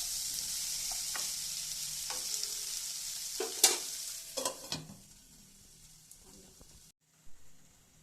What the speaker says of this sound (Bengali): এটাকে ভালো করে ভেজে ভেজে নেব।